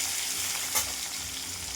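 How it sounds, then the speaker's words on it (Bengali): Potatoes fry in hot mustard oil in a wok, giving a soft, steady sizzle with a small stirring clink near the middle, close and fairly quiet with no talking. "তেলটা গরম হয়ে গেছে, এবার আলুগুলো ভেজে নেব"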